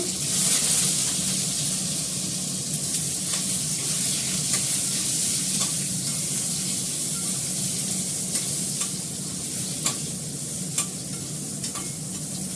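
Hilsa fish frying in mustard oil: a loud, steady sizzle and hiss running the whole time, with occasional small pops and spatters, close up and without speech.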